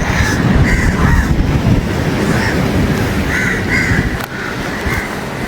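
Crows caw repeatedly near a pond in Colombo, a run of harsh calls over steady loud outdoor rumble, moderately close with no talking.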